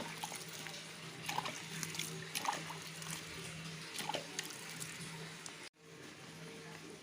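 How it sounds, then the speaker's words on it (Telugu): Water is sprinkled from above into a tub of freshly sown seedlings, making a soft, steady trickle and patter that stops briefly near the end. It sounds fairly faint and close. "చిలకరిస్తున్నానండి టబ్‌లోని"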